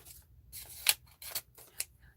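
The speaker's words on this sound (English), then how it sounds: "Let me get some scissors. We can divide up these papers." Scissors cut sheets of paper in half, close to the mic, giving several quick crisp snips with short pauses between them, fairly quiet and with no talking.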